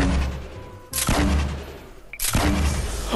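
Two heavy bursts of gunfire in Fortnite Battle Royale erupt loud and close, each a sharp explosive onset followed by a rumbling tail, with a quieter stretch between them.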